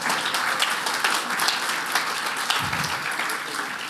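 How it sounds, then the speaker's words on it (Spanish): A church congregation breaks into strong applause, a dense, loud burst of many hands clapping with a few sharper claps, tapering slightly toward the end. "Dale un fuerte aplauso."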